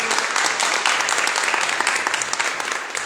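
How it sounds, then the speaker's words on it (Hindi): A conference crowd in Pune applauds together, a dense, sustained wash of clapping from many hands, steady and lively throughout. "एक बार हम लोग उसके ताली बजाते हैं।"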